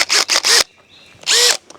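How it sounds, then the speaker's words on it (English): A power drill bores anchor holes for a 4K security camera system install: three quick loud whirring bursts, a short pause, then one more burst, close to the microphone with no speech. "let's drill out these holes"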